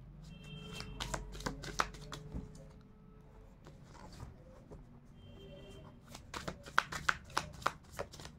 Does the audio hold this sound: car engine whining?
no